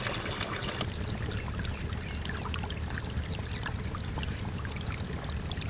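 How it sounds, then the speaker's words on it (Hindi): Steady rushing water flowing quickly through pipe fittings, a continuous broadband wash with small trickling splashes throughout, fairly close and unbroken. "अब पानी तेज़ी से जा रहा है।"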